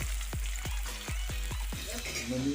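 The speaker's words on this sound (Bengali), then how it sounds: "এবারে আমি পেঁয়াজ আর কাঁচা লঙ্কাটাকে লাল লাল করে ভেজে নিচ্ছি।" Onions and green chillies fry in hot oil for a village-style desi chicken curry. The close, hissing sizzle is broken by a regular series of low thuds about three times a second.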